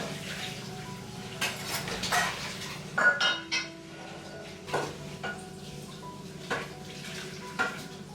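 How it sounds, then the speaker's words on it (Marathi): Washed kitchen utensils and steel pots being put away in a home kitchen: scattered metallic clinks, clanks and knocks at irregular intervals, close and moderate in loudness over a faint background hum. "किचनमध्ये वॉश केलेली जी भांडी असतात तीही मी लगेचच लावून घेते"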